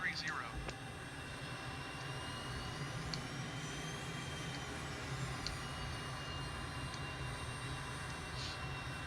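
M-346 jet in Microsoft Flight Simulator lined up and taking off from runway 6 left, a steady, loud engine roar and whine holding evenly throughout with a few faint high chirps.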